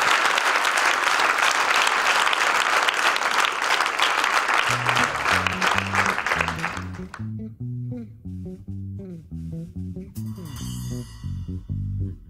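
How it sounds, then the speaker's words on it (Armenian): Concert audience applauding loudly at an Armenian live show, dense clapping that fades out after several seconds as music with a steady rhythmic bass line comes in underneath. "բոլոր երաժիշտերին բարձր ծափարեք"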